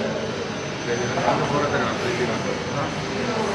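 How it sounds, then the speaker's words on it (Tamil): A small passenger aircraft at an airport on a route from Jaffna, its engine giving a steady, moderately loud broadband roar that continues throughout with little change. "சின்ன ஒரு ஏர்க்ராஃப்ட் தான்"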